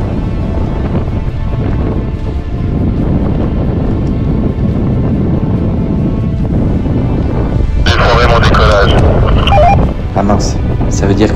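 Strong wind buffets the microphone in a constant low roar while paragliding, with a voice shouting faintly through the rumble near the end.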